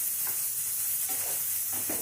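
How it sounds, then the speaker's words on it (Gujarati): Soya chunks fry in hot oil until crispy, giving a steady, close sizzle with faint stirring scrapes now and then. "તો આ રીતે એને ફેરવતા જઈ અને તેલની અંદર આપણે સરસ થોડી સોયાવડી છે ને એ ક્રિસ્પી થાય ત્યાં સુધી એને શેકી લઈએ।"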